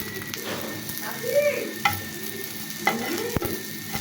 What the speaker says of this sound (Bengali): সব কয়টা চাপটি আমি এভাবেই ভেজে নিচ্ছি।